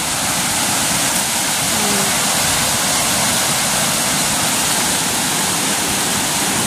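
Wide floodwater surges after heavy rain in a loud, continuous broadband roar that stays steady and close throughout, with no voices over it.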